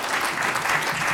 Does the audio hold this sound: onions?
no